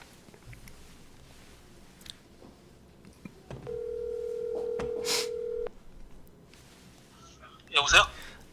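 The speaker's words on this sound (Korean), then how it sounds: "바로 전화를 해보겠습니다." A telephone is dialed for a call: scattered soft clicks, then a steady electronic dial tone of about two seconds. After it come a few brighter chirping tones, with faint room noise between.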